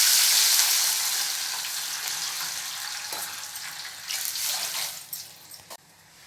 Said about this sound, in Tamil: எல்லாம் ஒன்று சேர்ந்து பொரிஞ்சு வந்த பிறகு கொழுக்கட்டைக்கு தேவையான தண்ணியும் சேர்த்துடலாம்.